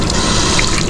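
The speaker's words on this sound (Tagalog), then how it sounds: "mag-refill tayo ng tubig" A public water tap in Rome runs into a refillable water bottle, a loud, close, steady gush of flowing water with no talking.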